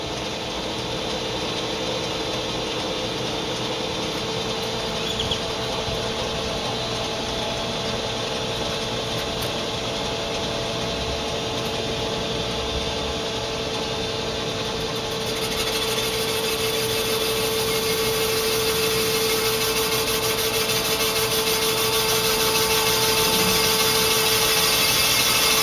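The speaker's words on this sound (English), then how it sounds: "And we're boring a cylinder." A Van Norman 777 boring machine cuts an engine cylinder with a steady, continuous mechanical whir and drone, close and constant throughout, brightening partway through as the cut continues.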